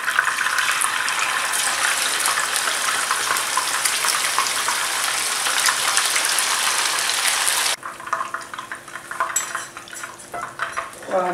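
Sea bream fish frying in oil gives a loud, dense, continuous sizzle up close. Near the end it drops suddenly to a quieter crackle, with light clinks of pan and utensils.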